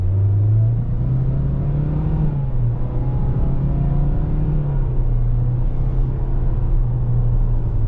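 2024 Toyota Corolla SE pulling away from a stop, its engine droning and rising in pitch under load with a steady rumble heard from inside the cabin.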